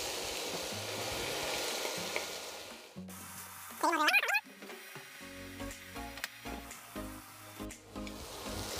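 Ham sizzles and is stirred in a pan with cooked chickpeas for a seafood chickpea stew, a steady frying hiss broken by scraping, clinking stirs and one sharp squeak.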